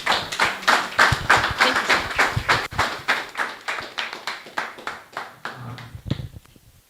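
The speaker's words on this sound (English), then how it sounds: "A round of applause for Mr. Ima once again." Seminar audience applauding at the end of a talk on the art economy: a steady patter of hand claps in a room, fairly close and dense at first, thinning and fading toward the end.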